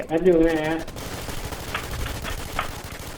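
Gunfire from the Warz survival shooter game, a short burst of bright shots under a steady game background, following a brief stretch of voice at the start.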